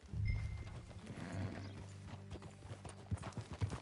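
Horse hooves clip-clopping while riding in Red Dead Redemption 2, a steady rhythm of close, moderately loud hoof falls that grows denser and sharper toward the end, with brief mechanical clinks over a low rumble.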